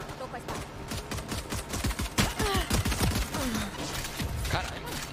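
Rapid gunfire in the tactical shooter Valorant on the Icebox map, a dense burst of sharp, punchy shots and clattering impacts in quick succession, loud and close throughout.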